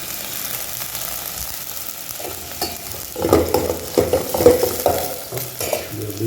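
Curry leaves drop into hot oil for a cabbage and mixed vegetable poriyal, bursting into a loud, crackling sizzle partway through after a quieter stretch of low kitchen noise, then bubbling and spitting steadily close by.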